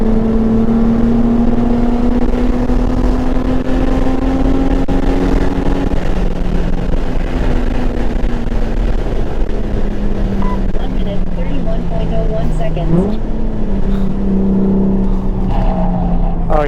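A Nissan 350Z with a JDM engine swap laps a race track at speed, its loud, close engine droning steadily with a shifting pitch throughout, including a dip and recovery near the end.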